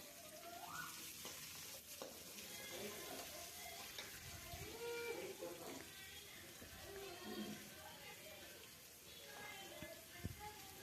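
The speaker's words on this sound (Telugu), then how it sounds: "తర్వాత ఆనియన్స్ వేసుకొని బాగా ఫ్రై చేసుకోవాలి." Onions frying in a pan give a soft, continuous sizzle with occasional stirring scrapes, fairly faint and close, while a voice speaks over part of it.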